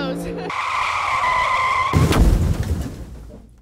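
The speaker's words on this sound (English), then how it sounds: "That's obviously someone crashing into something." A car's tires squeal in a loud skid, then a heavy crash hits with a burst of crunching impact noise that decays and fades out.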